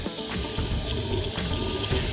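Water flushes through a broken drain pipe in a steady, loud rush that runs continuously, with a couple of brief surges along the way.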